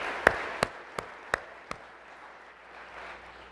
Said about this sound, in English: Let's give Washington a round of applause for doing that.